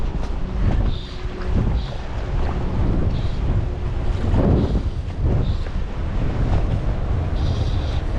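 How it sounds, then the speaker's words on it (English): Steady wind gusts buffet the microphone on an open coastal island shore while out fishing, a continuous loud rush and roar with swells and dips, water and waves faintly beneath, no talking. "Bit of wind around."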